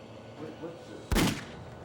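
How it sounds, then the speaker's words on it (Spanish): A single sharp shot from a .22 caliber rifle inside a house, a sudden loud crack standing out briefly above a quiet, murmuring background. "Los disparos la habían despertado."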